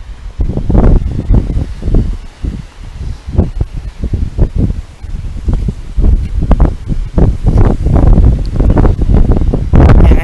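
Heavy wind buffets a microphone outdoors beside a lake, coming in loud, uneven gusts and low rumbling thumps that swell and fade throughout, with no voices.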